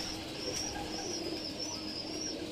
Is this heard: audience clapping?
no